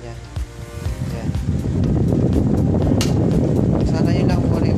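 A repaired electric fan runs steadily, its blown air giving a constant broad whooshing rush that grows fuller after a couple of seconds, with a person speaking over it.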